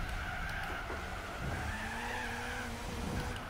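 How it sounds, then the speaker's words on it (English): Gran Turismo 4 race car tires squealing in a steady wheelspin skid over engine drone, continuous for several seconds with a sustained high screech, no talking. "Stop wheel spinning, please."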